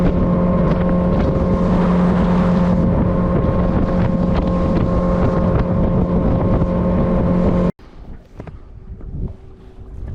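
A motorboat cruises out toward a fishing spot on the flats, its engine droning loud and steady with wind buffeting the microphone, then cutting abruptly to a quieter rush of water and wind.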